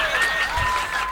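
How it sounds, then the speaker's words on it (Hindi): Audience applause at a Hindi comedy poetry gathering (hasya kavi sammelan), a dense continuous wash of clapping heard close and steady through the whole short moment, with faint voices underneath. "जोरदार ताली बजा दो"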